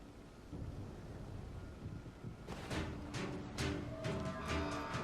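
Thunderstorm in the video game Bioshock Infinite: steady rain and wind hiss at first, then several rolling thunder crashes and rumbles come in from about halfway, fairly loud and close, with no talk.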